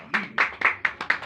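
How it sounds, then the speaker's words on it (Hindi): Congregation in a church clapping hands in a steady rhythm, about six loud, evenly spaced claps close by, with a faint voice underneath. "ठंडिया तालियां नहीं, जरा दब के बजाओ"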